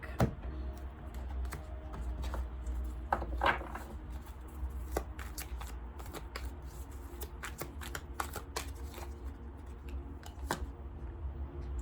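A deck of playing cards is handled and shuffled at a tarot-style reading table, with soft riffling and scattered crisp card snaps over a low steady hum.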